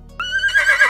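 A single loud, close horse neigh rises into a bright, wavering whinny that trembles through its second half and drops off abruptly at the end.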